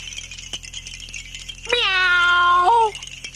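A voice imitates a cat with one drawn-out, loud meow that rises sharply and then holds before trailing off, set against quiet background noise.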